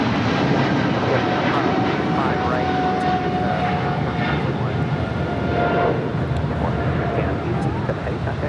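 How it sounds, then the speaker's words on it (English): Latam Airlines Boeing 777-300ER jet taking off at LAX, a loud continuous engine roar with broadband rumble that holds steady throughout, with a voice talking over it. "This is Latam Airlines, operated by Latam Brazil, 8087, taking off to Sao Paulo, 777-300ER."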